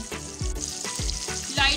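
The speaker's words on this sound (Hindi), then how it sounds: "इन्हें हल्का सा हिला लेंगे ताकि इसकी सारी साइडें थोड़ी थोड़ी सी पक जाएं।" Chicken drumstick half-leg pieces fry in hot oil toward light golden brown, a steady close sizzle broken by a few rhythmic stirring scrapes.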